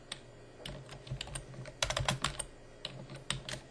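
Close, crisp clicks from a computer keyboard, typed in quick uneven bursts with brief pauses between keystrokes.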